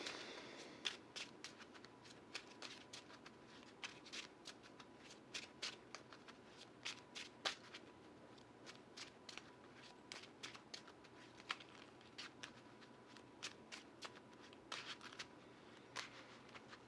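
A deck of Marvel Champions cards is shuffled by hand, with close, quiet riffling and crisp snapping clicks repeated irregularly over a long stretch, with no voices.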